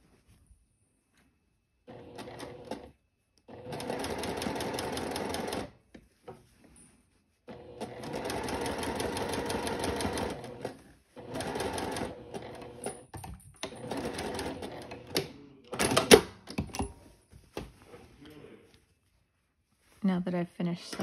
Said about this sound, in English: Now that I've finished sewing that first line of stitching